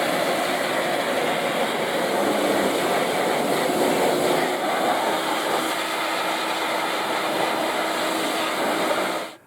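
A steady, loud hiss of water squirted over a KTM 350 motorcycle frame runs without a break for about nine seconds, then cuts off abruptly.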